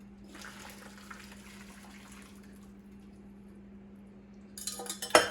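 Quiet trickling and splashing of pineapple liquid being poured over a pork loin in a crockpot, under a low steady hum, ending with a clatter of a utensil or lid.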